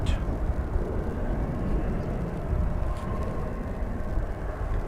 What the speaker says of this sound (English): We've got an A320 making a big turn to lift off.